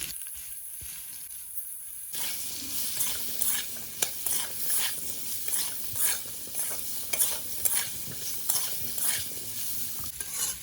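Potatoes for a fish curry frying in a pan, with close, repeated stirring scrapes and clinks over a continuous sizzle that starts after a short quiet moment.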